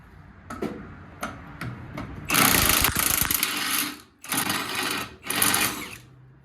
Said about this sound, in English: Now we can pop the Ugga Dugga machine in here.